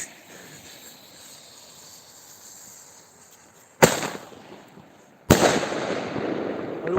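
Two sharp New Year's Eve firework blasts from a launcher go off a second and a half apart, each followed by a long crackling, hissing sputter, over quiet outdoor ambience.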